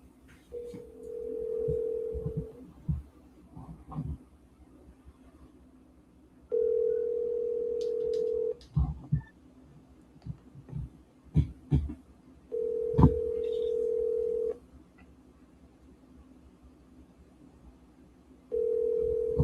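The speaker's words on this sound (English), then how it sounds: "Let me actually just try to call her from my cell phone then" Outgoing cell phone call to a wholesale real estate agent ringing repeatedly before going to voicemail, a steady tone sounding in evenly spaced bursts of about two seconds, with faint background clicks and noises between the rings.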